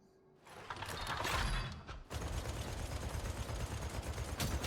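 An enemy gunner opens sustained automatic fire in Warhammer 40k: Darktide, a loud, steady rattling burst that keeps going after a short mechanical clatter at the start.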